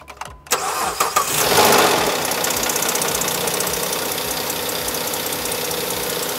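A car engine cranks briefly, catches and roars to life, then settles into a steady, loud idle.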